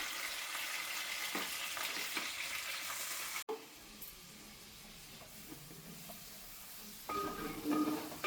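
Curry leaves crackling and sizzling as they drop into hot tempering oil for bommidayila pulusu, a steady loud hiss that dips sharply midway, then continues more softly with scattered pops and a louder burst near the end.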